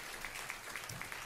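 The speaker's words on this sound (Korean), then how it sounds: "대학부 우리 박수로 한번 격려해 주시기 바라겠습니다" A church congregation at Sunday worship claps to encourage the college group, a soft, fairly distant patter of many hands with a few sharper claps standing out.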